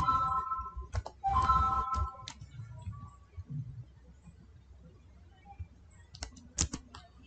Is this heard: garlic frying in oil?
no